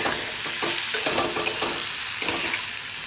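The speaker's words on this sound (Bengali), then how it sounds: "আর শেষে পনির দিচ্ছি, ছোটো ছোটো পিস করা পনির।" Small pieces of paneer stirred in a frying pan, a steady close sizzle with light scraping stir strokes, no talking.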